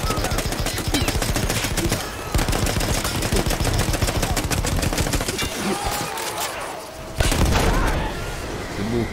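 Battlefield 1 combat: rapid bursts of gunfire crackle almost nonstop, broken by heavy explosion booms, loud and dense throughout with a brief lull near the middle.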